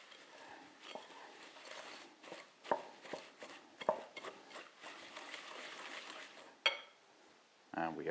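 Cookie dough of eggs, brown and white sugar, baking soda and vanilla being mixed in a bowl, with close, uneven scraping and tapping strokes and a few louder knocks, ending in a sharper clatter.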